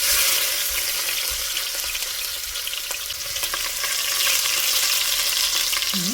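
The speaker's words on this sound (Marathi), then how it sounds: "आता म्हणजे तर कांदा फ्राय करते" Onion frying in hot oil with curry leaves for a Malvani drumstick and potato curry, a loud, steady hiss and crackle with light stirring, no voices present.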